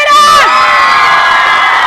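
Crowd cheering, whooping and shouting together outdoors at a party in front of a pastry shop, loud and close, a single sustained burst of excited voices.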